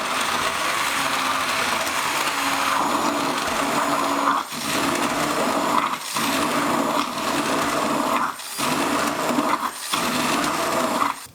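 Electric blender whirring loudly and continuously while blending tikka masala sauce, with brief dips and pauses between pulses and no talking.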